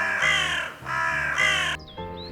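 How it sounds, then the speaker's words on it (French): Two loud, harsh caws from a crow close by on the Grand Croisse Baulet mountain at 2336 m, followed by a softer, fading call. "On écoute les corbeaux ou les corneilles,"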